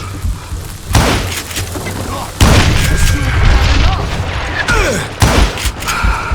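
Heavy gunshots fired in the Western shooter game Call of Juarez: Gunslinger, several loud booming blasts spaced a second or two apart over a noisy, rumbling game background.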